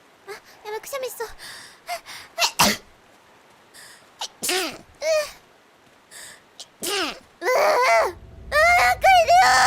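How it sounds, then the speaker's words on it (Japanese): A woman sneezes several times in quick bursts, close and loud, amid her own chattering and squeals, with a brief buzzing noise near the end. "くしゃみやばい。"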